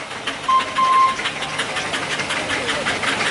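Steam engine running at a steam fair's heavy haulage arena, a steady broadband mechanical rumble with chuffing texture and a brief whistle-like tone, moderately loud throughout.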